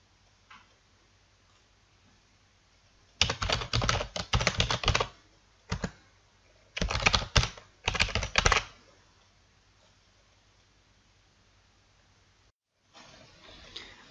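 Computer keyboard typing while entering a field name into a digital map, in three dense bursts of quick clicking keystrokes separated by pauses, close and clear over a quiet background hum.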